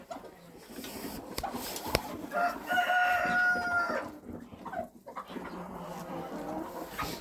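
Chickens cluck and a rooster crows in a farmyard, among ducks and turkeys, in a short, fairly quiet stretch with tonal calls rising over a busy bed of fowl noise and no talking.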